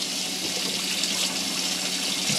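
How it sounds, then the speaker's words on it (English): Hot water runs from the bathroom sink tap of a Hymer B668 motorhome, a steady close hissing gush that flows evenly from start to end with no voices. "The sink, showing you the hot water is coming through."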